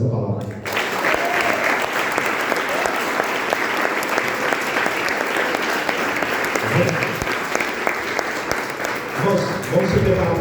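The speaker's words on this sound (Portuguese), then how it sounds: "quantos podem aplaudir por essa palavra?" Church congregation applauding during a powerful anointing worship service, a dense, steady wash of clapping that runs loud and unbroken for the whole stretch, with a few voices mixed faintly underneath.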